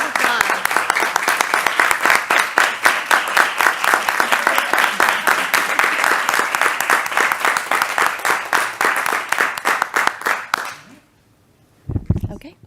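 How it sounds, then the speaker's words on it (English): Loud, rhythmic applause from a school committee meeting audience, rapid claps that keep going for about ten seconds before stopping suddenly into near silence, with a brief burst of noise near the end. "Round of applause."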